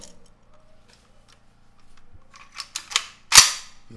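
A toy gun is cocked during a soldier-training scene in a Nigerian film, giving a few sharp clicks and a final louder snap, close and otherwise quiet.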